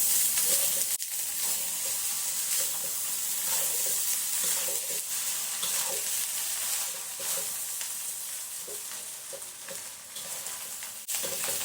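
Fried rice with anchovies being stirred in a pan over a low flame gives a steady sizzle, with scraping stir strokes and occasional clinks of the spatula against the pan, and no talk.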